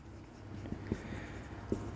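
A pen or pencil writes on paper during work on a limit problem, making faint scratchy strokes with a few soft taps, quiet and close against a low background hum.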